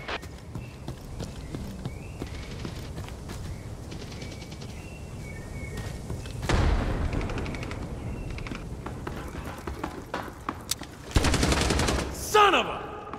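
Gunfire bursts in the online shooter Hired Ops, with sustained loud volleys around the middle and end of the clip over a steady background of game sounds, interspersed with sharp single shots.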